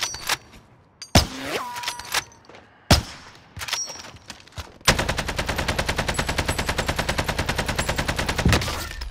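Gunfire in Call of Duty: Modern Warfare, beginning with scattered loud single shots and short bursts, then a sustained rapid automatic volley with a steady clattering rhythm lasting several seconds.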